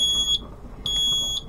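A mobility scooter's warning beep sounds when it is switched on without being set to neutral: a piercing high electronic tone pulsing on and off, loud and close, with no talking.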